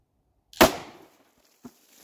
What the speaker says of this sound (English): I'm going to go ahead and shoot it and see how it does.